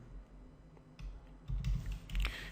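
Typing on a computer keyboard, a few soft clicks and key taps in a short, uneven burst, quiet and close.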